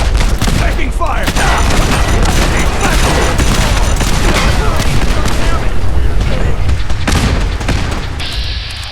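Heavy gunfire and booming explosions erupt during a battle in the video game Fallout 4, loud and dense bursts overlapping continuously, with a voice shouting amid the barrage.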